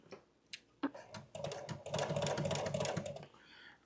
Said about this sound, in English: now we're going to put it back under the sewing machine again.